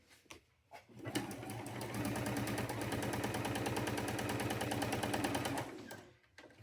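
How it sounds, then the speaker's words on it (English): A sewing machine runs in one continuous stitching burst of about five seconds, sewing a diagonal seam on fabric, with rapid even needle rhythm, close and fairly loud, and quiet handling before and after. "We're gonna sew our diagonal, just like that"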